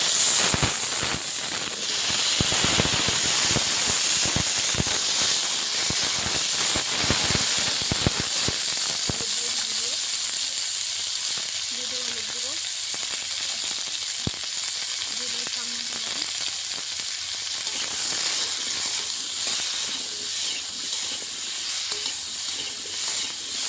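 Cut potatoes frying in hot oil with a dried red chilli and nigella seeds, a steady loud sizzle with crackling pops and stirring scrapes throughout, sharper spitting early on, no talk.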